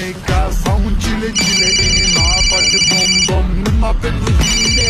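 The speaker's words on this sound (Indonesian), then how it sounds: "boleh nggak aku angkat telepon Ustazah?" A mobile phone ringtone rings in a repeating electronic melody over a noisy indoor background, with people speaking loudly around it.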